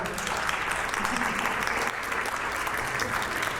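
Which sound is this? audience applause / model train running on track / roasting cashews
audience applause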